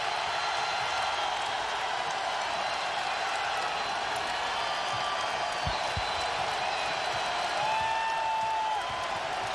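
Basketball arena crowd at a Louisville versus Notre Dame game roaring in a steady, dense wall of cheering that holds loud for the whole stretch, with faint whistles rising above it.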